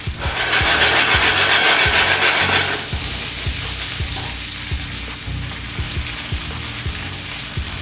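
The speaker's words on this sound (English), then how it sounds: "Get that tofu saute off in that same oil with all those flavors" Tofu searing in hot, flavoured oil in a pan gives a loud, steady sizzle that eases after a few seconds into a quieter crackle with low rhythmic thumps beneath, no voices.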